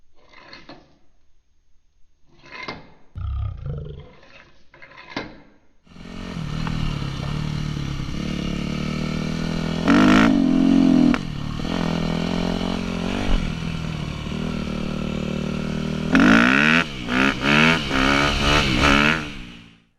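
A motorcycle with an FCR carburetor starts after a few clanks and mechanical clicks, then idles loudly up close, its throttle whacked into sharp revs around the middle and again near the end before the engine cuts off.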